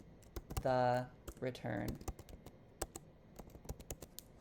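Keys clatter on a computer keyboard during Photoshop work, in quick, irregular clicks, close and fairly quiet, following a short burst of voice.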